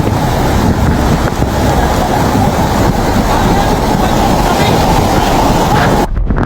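Violent typhoon Uwan winds roar across Catanduanes in Bicol, a loud unbroken blast of buffeting gusts that batter the microphone for several seconds before cutting off abruptly.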